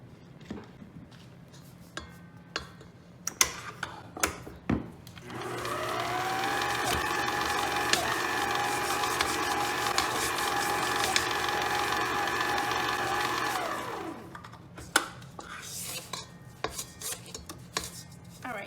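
Chocolate French silk pie cake batter being beaten with an electric mixer, a steady whirring hum running for about nine seconds with faint clatter and knocks before and after.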